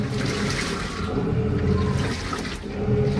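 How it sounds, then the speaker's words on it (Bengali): A washing machine in the middle of a wash cycle: a steady, close churning whoosh of sloshing water and rumbling drum that runs continuously without pause, with no speech. "কাপড় চোপড় মেশিনে দেওয়া হয়েছে আমার, দেখেন আসলে আওয়াজটা মেশিনের পাইতেছেন"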